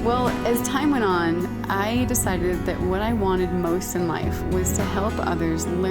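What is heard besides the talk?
No distinct noise like a dog, phone or traffic.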